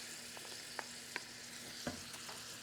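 Tomatoes, green chilies and ketchup being stirred together in a pan, heard as a few faint, scattered scrapes over a low steady hiss, with no talking.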